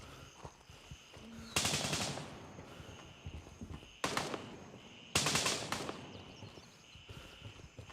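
Bursts of automatic gunfire at a firing range in the video game Gray Zone Warfare, with two long volleys and a shorter one separated by quieter gaps of ambient game sound.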